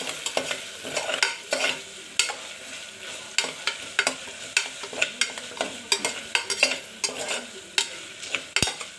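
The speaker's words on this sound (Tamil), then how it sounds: "இந்த மிளகாவை சேர்த்து நம்ம இதை 1 நிமிஷம் வதக்கிக்கலாம்" Green chillies sauté in hot oil in a pan, a steady sizzle broken by regular scraping strokes of a spoon stirring them, close and fairly loud with no talking.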